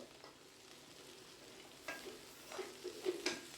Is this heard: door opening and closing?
no